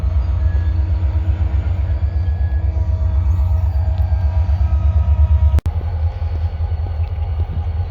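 A freight train rumbles past close by on a trail in Northlake, with a rhythmic clickety-clack of wheels over rail joints, heavy and continuous, with one sharp bang midway.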